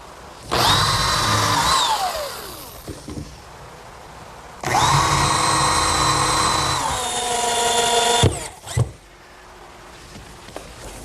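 A power drill driving screws into the center cleat of a wooden picnic table, two long loud whirring runs that rise and slow, separated by a pause, then a few short bursts and knocks, close by with no talk.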